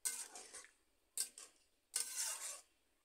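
Vegetables stirred with water in a pan for a Bengali pumpkin-stalk chorchori, with three short bursts of scraping and clinking from a utensil against the pan, fairly faint and close, with no talking.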